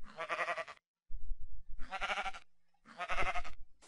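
Sheep in Minecraft give three separate bleats, each a buzzy, wavering call about three quarters of a second long. Low rumbling background noise fills the gaps between them.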